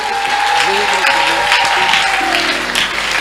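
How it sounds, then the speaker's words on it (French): Steady applause from a church congregation during a Sunday wedding blessing service, a dense continuous clatter of many hands that fills the hall, with voices carrying over it. "nous acclamons pour le témoignage de l'église"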